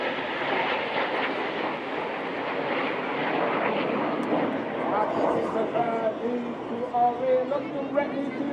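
Red Arrows aerobatic jets roar past at the Blackpool Airshow with a broad, steady rushing drone, while a commentator talks over the engine noise throughout.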